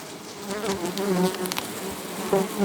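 Honeybees buzz steadily at close range at a hive, a layered droning hum with individual bees passing near.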